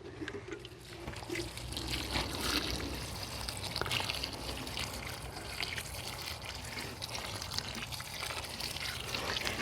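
Water pours and trickles steadily onto garden plants in a greenhouse garden, a continuous close splashing flow with no talk over it.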